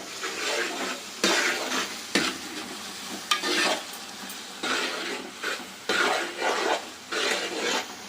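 Chicken pieces sizzle in a pan of hot oil while being fried for a gongura chicken pickle, with repeated scraping stirs in uneven bursts and steady close frying noise throughout.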